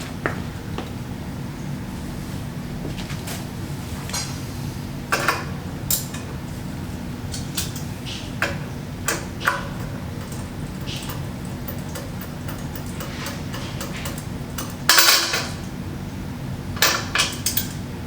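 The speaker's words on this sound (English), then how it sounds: "at that time you can go and take a socket wrench and undo it" A socket wrench undoing a toilet bolt during a wax ring replacement, with scattered metallic ratchet clicks and sharp taps over a steady background hum, some louder knocks standing out.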